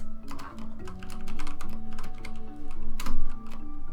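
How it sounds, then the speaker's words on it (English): Rapid typing on a computer keyboard, a dense run of crisp key taps with brief pauses, close and fairly loud over a steady low hum. "I'll type it in here."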